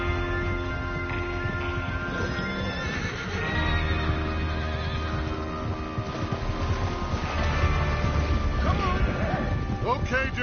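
Horses in the video game Red Dead Redemption 2 whinny and snort over a steady clip-clop of hoofbeats, with outdoor ambience and voices mixed in.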